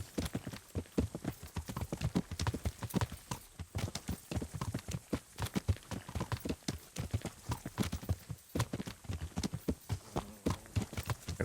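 Horse hooves clip-clopping at a steady riding gait in Kingdom Come: Deliverance, a continuous rhythmic series of close, distinct hoof strikes with no talking.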